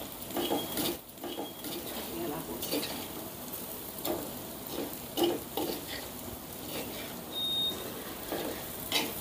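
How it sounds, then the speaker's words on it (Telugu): Masala curry mixture with turmeric and salt sizzles in a pan while a spoon stirs it in intermittent scrapes and taps. The frying hiss stays soft and steady, with a faint beep partway through. "ఇప్పుడు ఈ మొత్తాన్ని ఒకసారి కలుపుకుందాం."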